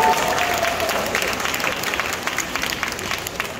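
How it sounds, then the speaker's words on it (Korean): Audience applause fills a church during a parish concert at Yeongjong Catholic Church, dense steady clapping from a large congregation, sustained and fairly loud throughout. "박수."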